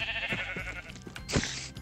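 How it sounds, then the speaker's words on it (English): A video game sheep lets out a loud, close bleat with a wavering tone, followed by a brief second call, heard alone in a survival game. "Sheep."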